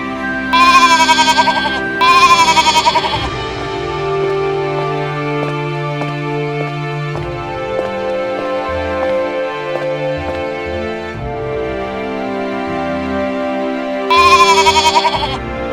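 A goat bleats loudly in a few wavering calls, two near the start and one near the end, over a steady background of music.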